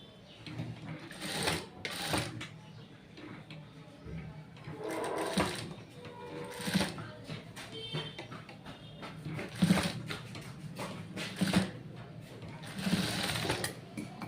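A sewing machine stitches cloth in bursts of rapid mechanical whirring, close and clear. Someone talks between the runs.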